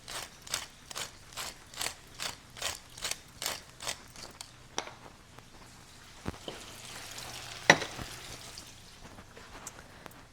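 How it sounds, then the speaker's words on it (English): A pepper mill grinds fresh pepper in a quick, steady series of about a dozen rhythmic ratcheting twists, close and crisp, followed by quieter kitchen clatter and a faint sprinkle. "Pinch of salt and some fresh ground pepper."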